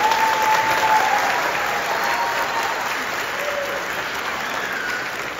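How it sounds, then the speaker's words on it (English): Steady, dense applause from an audience at a junior high beginning band Christmas concert, loud and unbroken throughout, slowly easing off toward the end. "So please give them a round of applause."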